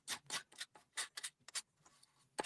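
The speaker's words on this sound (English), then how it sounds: "Sorry if you guys hear scissors and cutting" Quiet snipping of scissors cutting out a craft piece, a string of short crisp cuts in an irregular rhythm, close and soft.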